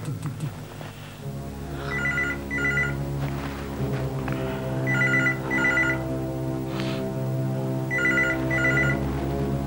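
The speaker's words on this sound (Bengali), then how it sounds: "ওরই ফোন হবে" A telephone rings in repeated paired bursts, three double rings spaced evenly apart, clear over a steady low background hum in an indoor drama scene.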